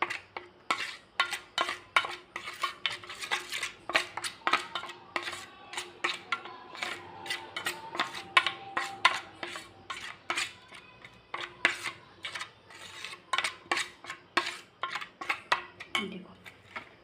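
Hilsa fish being mixed by hand in a bowl with mustard and poppy seed paste, a long run of sharp, rhythmic clinks and scrapes against the dish, close and fairly quiet.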